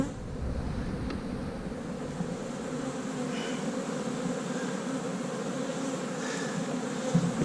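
Honey bees buzz steadily around an open, crowded beehive in January in South Carolina, a continuous near drone holding throughout with faint wind noise.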